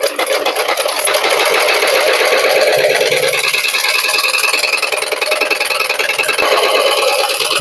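A sewing machine runs steadily while stitching a blouse, a fast even mechanical whir that holds loud and close throughout with no pauses.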